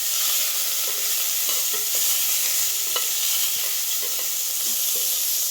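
Tempering for curd rice sizzles and hisses steadily in hot oil with coriander leaves added, close and loud, with light stirring clinks in the pan and no talking.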